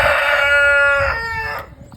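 A black Jersey Giant rooster crows in spring, one loud, close, drawn-out cock-a-doodle-doo with a strong harmonic tone. The crow fades out just before the end.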